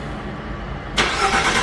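A 2016 Ford Mustang fitted with a new Borla exhaust fires up at about the one-second mark, the ignition bursting in as a loud, broad roar over the quiet before it and settling into a steady rumble.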